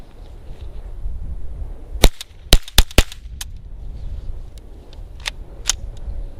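An AR-7 survival rifle firing CCI Quiet-22 rimfire ammunition outdoors, several sharp, loud cracks in an irregular burst of about four close together, then a few fainter snaps at intervals.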